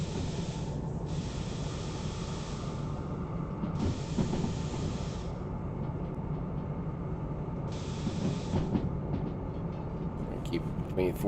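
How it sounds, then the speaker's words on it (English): A DH4 diesel-hydraulic locomotive in the video game Derail Valley rumbles along steadily with a low mechanical drone, broken by repeated long hissing bursts; a voice talks faintly underneath. "Listen to your train as it's going through its paces."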